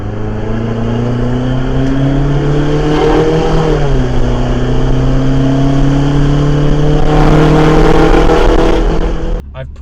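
A Detroit 4-53T turbocharged diesel in a rig runs loud and harsh outside the vehicle, its steady drone swelling as the engine revs up and eases off twice before cutting away abruptly at the end.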